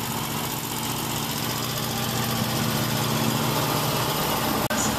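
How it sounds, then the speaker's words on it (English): Steady idling engines and low rumble of congested street traffic with taxis near the Papagayo in Acapulco, a continuous drone close by without talk. "parking traffic, bunch of taxis"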